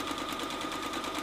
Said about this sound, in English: We're going to sew all the way on all of these on one side of the line